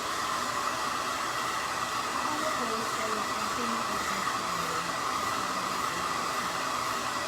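A hair dryer blows on freshly painted bumblebee crafts, a loud, steady, unbroken whooshing roar held close throughout.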